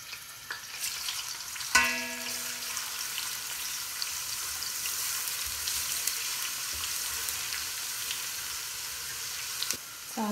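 Cumin, garlic and ginger frying in a pan of hot oil, a steady close sizzle with a sharp clink of a utensil early on and light stirring scrapes throughout.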